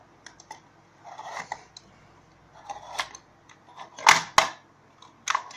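A hand-cranked pencil sharpener turned in short bursts, its blade grinding and ticking in scattered clicks and scrapes, with one louder rasping crank near the end; close and fairly quiet, with no talk.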